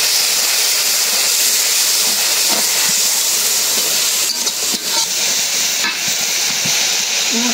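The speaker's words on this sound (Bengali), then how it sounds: "মশলা ভালো করে কষাই নিলাম" Turmeric, chili and coriander powders sauté in a hot pan with a splash of water for a cauliflower curry, giving a loud, steady hiss and sizzle with a few brief spatters near the end.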